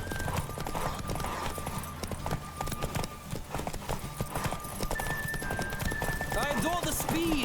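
Rapid clip-clop of hooves at a gallop in The Witcher 3, loud and continuous, with a horse whinny near the end over busy game background sound.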